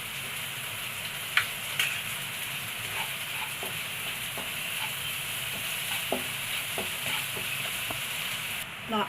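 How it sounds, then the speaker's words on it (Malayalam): Crushed garlic and ginger sautéing in a pan for an egg puffs filling, with a steady sizzle and occasional stirring scrapes and clicks, no voices. "നന്നായിട്ടൊന്ന് വഴറ്റിയെടുക്കണം വെളുത്തുള്ളി ഇഞ്ചി ചതച്ചതിട്ട് കൊടുക്കാം"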